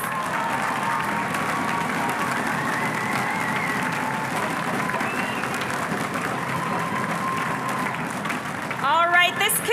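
An audience at a national middle-school math competition applauds the mathletes with steady, dense clapping and a murmur of crowd noise, ending with a brief rise of cheering or voices.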